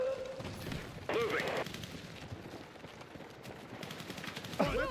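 Automatic gunfire and rapid bursts in a Battlefield 6 campaign firefight, with sharp repeated shots through much of the clip, shouted voice callouts over the combat and brief whistling tones near the start and end.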